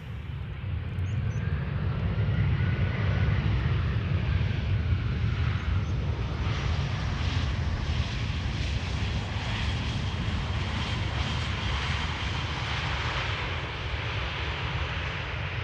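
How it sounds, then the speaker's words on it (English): Air Arabia Morocco flight 121 from Nador arrives at Amsterdam Schiphol, a sustained jet engine roar rising slightly then holding steady at a moderate distance. "This is Air Arabia Morocco flight 121 arriving from Nador"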